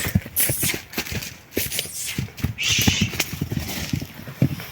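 Stallion hooves thud and clop in an uneven rhythm up close, with shuffling movement and a brief whinny partway through.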